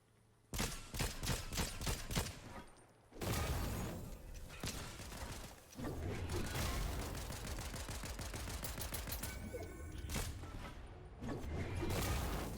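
Rapid bursts of Fortnite gunfire crack repeatedly and loudly across the match, with dense volleys and brief pauses between flurries.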